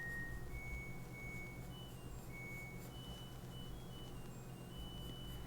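Several thin electronic beeps from a washing machine sound at intervals over a steady low hum of household background noise, moderately faint.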